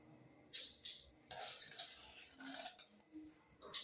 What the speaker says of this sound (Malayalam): കഴുകി വാരി വെച്ചിരിക്കുന്ന പച്ചരി മിക്സിയുടെ ജാറിലേക്ക് ഇട്ട് കൊടുക്കുകയാണ്.